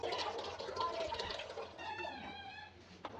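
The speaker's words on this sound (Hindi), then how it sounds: "चने बॉयल करने के लिए एक प्रेशर कुकर लेंगे और इसमें 1 लीटर पानी डाल देंगे" Water is poured from a container into a pressure cooker while preparing chickpeas for chana pulao, a steady splashing, gurgling pour that runs close and moderately loud for about three seconds.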